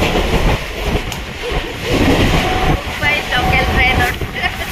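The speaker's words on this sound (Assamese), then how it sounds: "আমি বৰিবলিৰ পৰা বিৰাৰলৈকে ট্ৰেইন লৈছিলোঁ, লোকেল ট্ৰেইন" Local suburban train ride between Borivali and Virar near Mumbai, with a steady loud rumble of the carriage on rails and faint clatter throughout, plus some indistinct voices under it.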